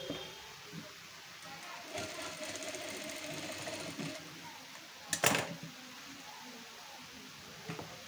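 A sewing machine stitches tucks into a blouse, short bursts of fast rattling stitching close by, with a loud clunk midway and quiet pauses between runs.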